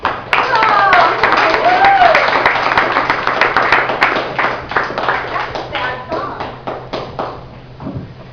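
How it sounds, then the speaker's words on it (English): An audience at a small Phoenix performance venue, The Trunk Space, breaks into loud clapping that gradually thins into scattered claps, with voices and cheers mixed in. "Now you can clap."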